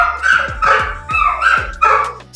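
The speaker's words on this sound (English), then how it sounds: "I wish these dogs would be quiet." Several dogs bark loudly and close by in a house, four sharp rapid barks with yips between them, and no talk.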